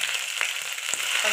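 Vadagam dropped into hot oil, frying with a steady close hiss and faint crackle, a couple of soft pops standing out, no voices.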